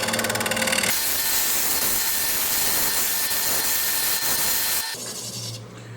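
A carbide woodturning tool cuts a small radius on the lip of a cherry bowl on a lathe, making a loud, continuous hissing scrape that eases off near the end as the lathe spins down.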